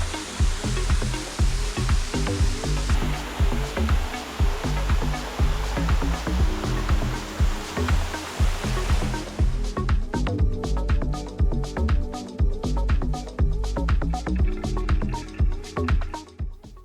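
Vaipahi waterfall on Tahiti's south coast in French Polynesia, a steady loud rush of falling water close by, continuous throughout with a dense hiss, and the character shifting partway through.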